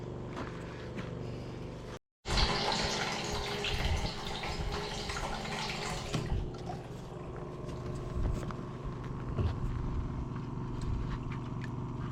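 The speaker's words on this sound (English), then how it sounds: "force as much clean water as I can through the membrane side" Clean water forced under pressure through the membrane of a reverse osmosis unit used for maple sap, a loud continuous rushing hiss with machine hum that cuts out briefly and then resumes steadily, with no talking.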